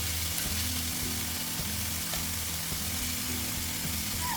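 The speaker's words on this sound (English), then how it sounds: "I'm just gonna add the next batch of the beef" Rump steak bites fry in a pan for a creamy garlic butter dish: a soft, continuous sizzle, fairly quiet and close, sitting over a low droning hum with no voices.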